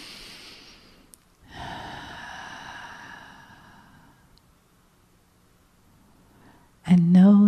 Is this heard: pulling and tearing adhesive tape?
no